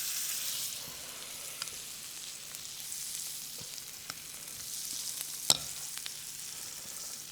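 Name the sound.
black bean burger patty frying in oil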